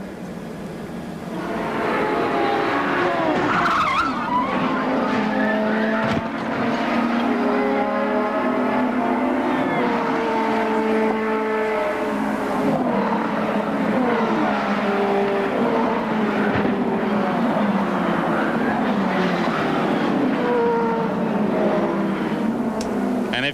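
Race car engines from the 1994 CART race at Phoenix during a crash replay, loud continuous engine drone with shifting pitch and overlapping cars, steady and close throughout with no talk.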